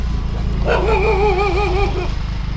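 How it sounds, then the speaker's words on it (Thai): A dog near a rice field hut in rural northeastern Thailand gives a drawn-out wavering howl-like vocalization lasting over a second, fairly close, over a steady low engine-like hum. "หมามันเห่าแล้ว"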